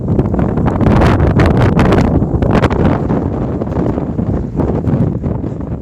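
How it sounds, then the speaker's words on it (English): Strong wind buffets the microphone outdoors on the Pacific Crest Trail, a loud, continuous roaring rumble with gusty surges and no voices. "I know the wind is a lot, but damn."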